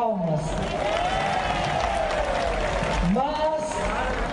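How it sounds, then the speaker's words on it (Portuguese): Crowd applause in the Parque da Cidade at the closing of the 13th Romaria da Terra e das Águas pilgrimage. A sustained wash of clapping sits under a speaking voice that carries through the clip. "Merece realmente uma grande salva de palmas."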